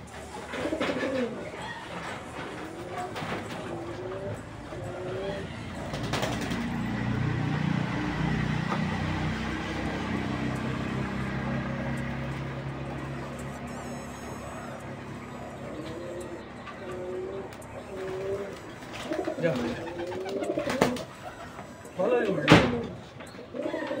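Pet pigeons cooing at home, soft repeated coos running through the middle, with a person talking over them and a few door knocks and thumps near the end.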